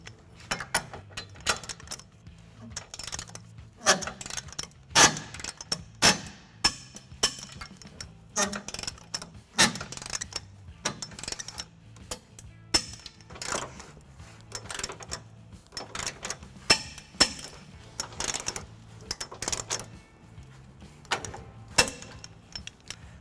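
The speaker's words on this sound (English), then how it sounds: "we're just going to tighten and torque all of our bolts to the manufacturer specification" A 19mm socket on a 5-inch extension tightens and torques trailer hitch bolts on a 2017 Toyota Tacoma, a quiet series of irregular metallic clicks and ratcheting taps spread over the whole stretch.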